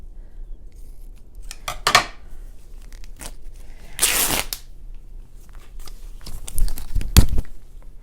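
Paper trimmed about half an inch off the top of a composition notebook being altered into a journal: a few short, close cutting and tearing bursts with quiet handling between them and no talk.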